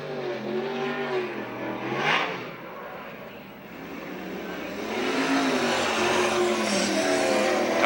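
Sprint car engines in a USAC/CRA race at Santa Maria, including a TCR 360 Chevy, drone steadily close by with rising and falling pitch as cars pass and accelerate around the track.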